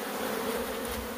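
A swarm of killer bees around a hive makes a dense, continuous buzzing drone, close and steady, with no voices.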